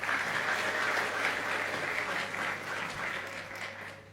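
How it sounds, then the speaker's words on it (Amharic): Sustained applause from an audience at a graduation ceremony, a steady even patter of many hands clapping through the whole stretch, fairly close and moderately loud with no voices over it. "ጭብጨባው የቀዘቀዘበትን አሁን ተረዳሁኝ።"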